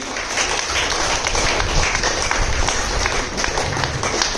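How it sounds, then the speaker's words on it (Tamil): A church congregation clapping together in praise, a sustained, dense and fairly loud roar of many hands that continues evenly throughout. "எல்லோரும் கைத்தட்டி ஆண்டவரை நன்றி கூறுவோம்."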